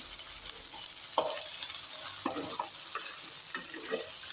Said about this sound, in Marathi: डाव्या हाताने हलवते.